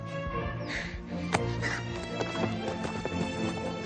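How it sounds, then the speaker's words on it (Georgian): A fast, purebred horse gallops past with a busy, continuous drum of hooves and a neigh mixed in, loud and close throughout. "სწრაფი ცხენია."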